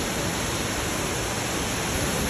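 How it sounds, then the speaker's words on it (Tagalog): Ladsudan Falls, a waterfall, heard as a steady, dense broadband rush of falling water, loud and unbroken throughout, with no voices over it. "Ito po ang view ng Ladsudan Falls, mga ka-idols, no?"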